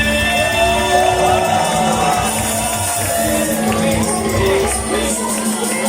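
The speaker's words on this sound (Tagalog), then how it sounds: "Malakas na palakpak sa ating Panginoon" A church congregation claps and cheers in a loud, sustained wash of crowd noise with shouts and whoops, alongside music.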